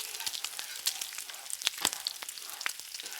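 Vegetables and smoked salmon sizzle steadily in a hot frying pan for penne pasta, a close, continuous crackling hiss with small pops as the food is stirred.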